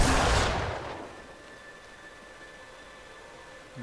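A Necromancer's bone spear attack in Diablo 3 lands as a loud, sharp blast that decays over about a second into a faint, lingering hiss and a thin ringing tone.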